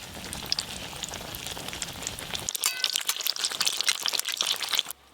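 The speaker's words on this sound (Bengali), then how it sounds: "আমার কিন্তু বেগুনি শুরু হয়ে গেছে ভাজা।" Eggplant fritters (beguni) frying in hot oil make a dense crackling sizzle with popping spatters that grows louder and busier midway, then cuts off at the end.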